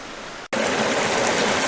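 Creek water runs steadily at close range, a continuous broadband rush and burble that begins after a brief silent gap and then holds even and loud to the end.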